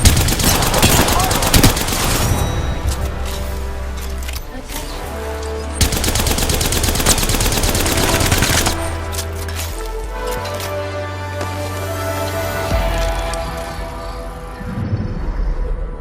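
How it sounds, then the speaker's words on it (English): Enemy gunfire in the video game Apex Legends: dense bursts of rapid shots and fusillades with game music and effects layered loudly throughout, and no clear talk on top. "The enemies are shooting at me."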